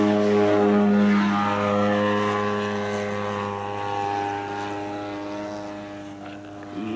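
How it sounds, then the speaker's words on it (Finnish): A radio-controlled model airplane engine at a model aircraft championship revs up as the plane rolls and gathers speed for takeoff in strong wind. It gives a loud, steady, high-pitched buzzing whine that slowly drops in pitch and fades slightly. "Lentäjä ilmoitti, että nousu alkaa ja kierrokset nousevat, kone rullaa, kerää nopeutta tasaisesti."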